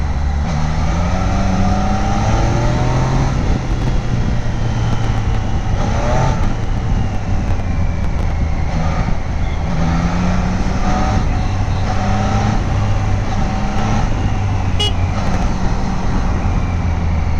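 A 2025 Triumph Daytona motorcycle is ridden, its engine droning loudly and continuously with repeated rises and falls in pitch as it revs and shifts, heavy wind rush throughout.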